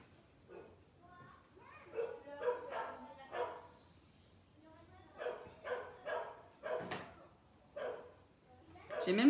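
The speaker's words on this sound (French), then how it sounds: "J'ai même le chien du voisin qui s'y met." Neighbour's dog barking in short repeated yaps and barks, fairly close, in two bursts separated by a quieter gap while work on a small handbag goes on.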